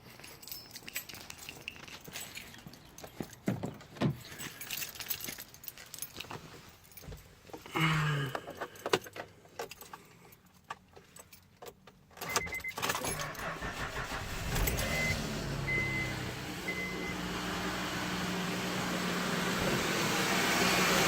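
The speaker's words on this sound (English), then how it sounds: "I'm going to start this up and see if the power steering pump still makes that same noise." A 2007 Honda Pilot after a power steering O-ring repair: keys rattle and handling noises come first, then the engine starts and settles into a steady idle with the power steering pump running, a faint whine over the hum.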